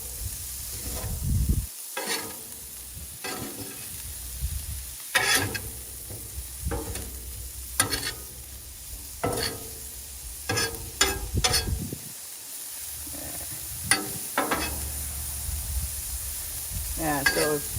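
Onions and green onions tossed onto a hot Blackstone griddle with pork fried rice give a continuous sizzle, broken by repeated sharp metallic spatula scrapes and clanks in an irregular rhythm, outdoors on a cold winter day.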